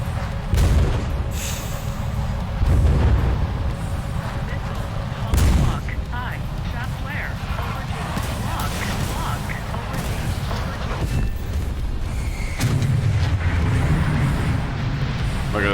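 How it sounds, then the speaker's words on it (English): Missiles in a War Thunder air battle explode in loud, dense booms and blasts over continuous engine and battle roar, with heavy hits near the start and middle and someone talking throughout. "There's the missile coming for me. Multiple missiles."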